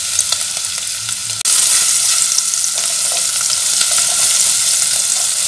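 Garlic hits a pan of frying bacon with a sudden loud sizzle that jumps up partway through and stays as a steady, crackling hiss.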